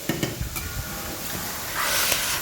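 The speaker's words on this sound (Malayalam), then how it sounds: "നമുക്കിനി വേവിച്ച് വച്ചിരിക്കുന്ന പയറും കായത്തൊണ്ടും അതിലിട്ടു നന്നായിട്ട് ഇളക്കാം" Cooked lentils and banana peel being stirred into browned spices in a frying pan for a Kerala-style mezhukkupuratty, giving soft scraping stirs over a low, steady sizzle.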